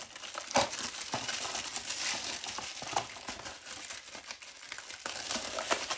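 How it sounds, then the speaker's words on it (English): Plastic wrapping on a Blu-ray case crinkles and rustles continuously, close and crisp, with sharp crackling bursts as it is handled and pulled. "For those of you who like the sound of plastic rustling"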